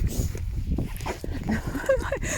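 A big dog whimpers and yips in short bursts amid a busy, noisy background with voices nearby.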